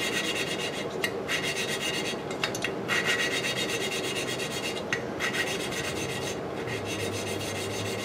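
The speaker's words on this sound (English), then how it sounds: "I wiped it out and put some more lapping compound in there" A valve seat being lapped with lapping compound, a continuous gritty back-and-forth rasp with brief pauses, close and moderately loud.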